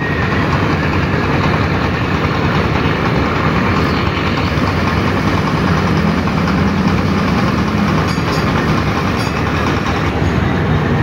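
The engine of a large passenger launch at the Barishal launch ghat, heard from the stern of a neighbouring launch, gives a loud, steady heavy drone that runs unbroken throughout.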